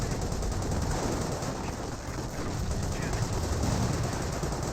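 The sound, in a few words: 88 mm anti-tank gun firing in Company of Heroes video game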